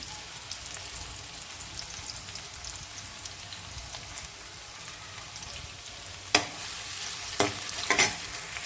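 Onions frying in fresh sweet oil, a steady, close crackling sizzle throughout, broken near the end by a few sharp stirring scrapes against the pan.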